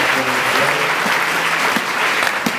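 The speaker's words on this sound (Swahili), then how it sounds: "Unaweza ongeza makofi kwa neno la Mungu." A church congregation breaks into steady, dense applause that fills the room evenly, with a faint voice underneath toward the start.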